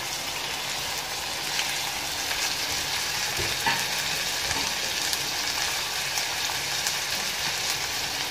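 Green chilies frying in a pan, a continuous close crackling sizzle with a few brief scrapes and taps of a stirring utensil partway through.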